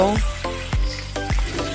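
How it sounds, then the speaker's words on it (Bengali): Prawns fry lightly in oil in a wok for a Bengali prawn malaikari, giving a close, steady sizzle broken by a few sharp spatula knocks and stirring scrapes. "মাখিয়ে নিয়ে হালকা করে মাছগুলো ভেজে নেব"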